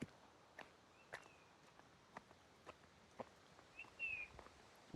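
Footsteps crunch along a rural path toward paddy fields, soft and irregular, with a few faint bird chirps in the quiet background.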